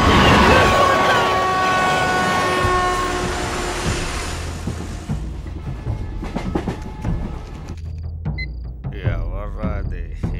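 The East Coast Express passenger train runs at speed: a loud horn sounds first, then a steady rolling rumble with rattling, clattering carriages and brief voices.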